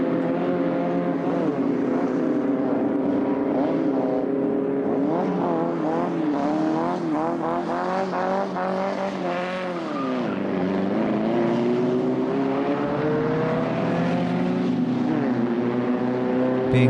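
Several Beetle Cup race cars roar past on a circuit, their engines rising and falling in pitch as they approach and pass, a continuous loud drone throughout with no talk.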